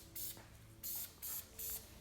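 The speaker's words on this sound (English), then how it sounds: "this thing sprays out a ton of paint, like real fast" An aerosol spray paint can hisses onto a plastic wheel center cap in four short bursts, each a sharp, close hiss separated by brief pauses.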